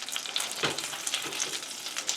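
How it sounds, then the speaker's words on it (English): Butter, about three tablespoons, melting in a pan, giving a soft, steady high fizz and crackle throughout with a couple of faint low knocks, fairly quiet and with no talking. "We're going to melt that in this pan."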